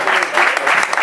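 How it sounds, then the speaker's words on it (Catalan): Applause from the crowd in the stands at a football match between CF Igualada and Amposta, steady and dense for the whole second, as spectators clap for two substitutes. "Aplaudiments"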